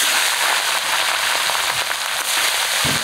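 Pieces of katla fish fry in hot oil in a wok, a loud, even sizzle and crackle that hisses continuously at close range with scattered pops.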